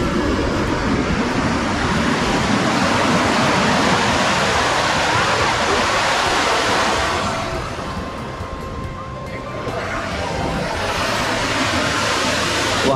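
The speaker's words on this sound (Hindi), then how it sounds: "वहाँ से एकदम गर्म पानी आ रहा है और ये एकदम ठंडी नदी है।" The cold, glacier-fed Parvati River rushes loudly and continuously, a dense roar of flowing water that dips briefly before swelling again, with faint talk now and then in the background.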